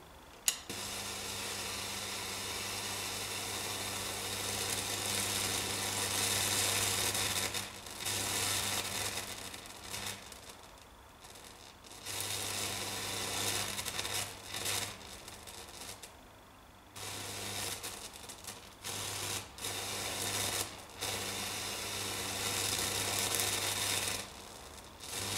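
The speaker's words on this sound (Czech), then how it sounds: "když je přiblížím ještě více, tak se zapálí oblouk" A transistor Tesla coil throws spark discharges and an electric arc, making a harsh crackling, hissing buzz with a steady hum underneath. It runs in long bursts broken by short silent gaps.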